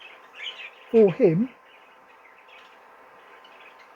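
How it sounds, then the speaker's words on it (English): A pair of zebra finches give two short, bright chirping calls close by, standing out from quiet background noise with faint voices in the room. "this pair here, which were a pair of Zebra Finches"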